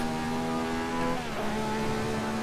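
Ferrari 312/67 V12 engine in the Assetto Corsa video game at Monza, a steady high-pitched drone that dips and then climbs again in a brief rev change, with no talk over it.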